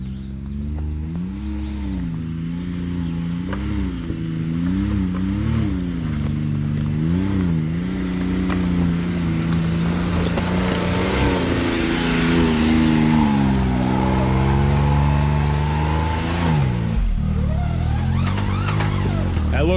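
An off-road vehicle climbing a rock obstacle at an OHV park, its engine revving in rising and falling surges that build to a sustained louder roar before cutting off near the end, close and loud.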